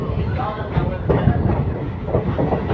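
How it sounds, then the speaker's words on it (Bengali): A passenger train rolling into New Cooch Behar Junction on platform 2, its carriages giving a close, rumbling clatter with rhythmic wheel knocks while a voice talks over it. "আর ট্রেন এসে দাঁড়িয়েছে নিউ কোচবিহার জংশনে 2 নম্বর প্ল্যাটফর্মে।"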